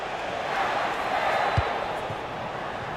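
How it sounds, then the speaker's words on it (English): A stadium crowd in a football video game murmurs and roars in a steady wash, with one brief thump partway through. "The crowd have really got behind them today."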